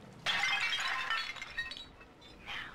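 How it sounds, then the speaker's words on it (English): Porcelain tea service smashing in the Bioshock 2 video game, a sudden bright crash of breaking china followed by scattered clinking shards and a final smaller tinkle, fairly quiet overall. "This, I think, is a porcelain tea service in the style of Louis XV."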